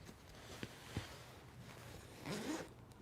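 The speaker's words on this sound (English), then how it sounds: "The trick is to take the zipper up pretty far and then feed it in." Zipper on a Peak Design Travel Backpack 45L being worked through its track in short close pulls, a few quick rasps and then a longer drawn zip near the end; quiet, no talking.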